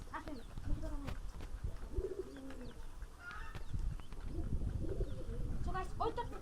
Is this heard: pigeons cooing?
yes